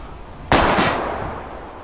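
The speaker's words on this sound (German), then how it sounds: "Let's see what happens when you shoot the gas tanks. Step back, gas tank go boom." A gas tank explodes after being shot in the video game Life is Strange: a sudden loud blast with a quick second burst, then a long fading rumble, with no voices.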